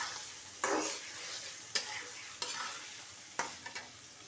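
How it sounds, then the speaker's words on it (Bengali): Fish being fried and stirred in a pan with dal, giving a steady sizzle with several scraping stir strokes at irregular intervals, close but fairly quiet, with no talking. "মাছগুলি ভালো করে কষিয়ে তারপরে ডালটা দিয়ে দিলাম।"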